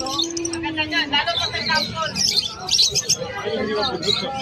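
Pet birds chirp and call at a pet market in Malabon, with bright repeated tweets over background crowd babble and someone talking close by.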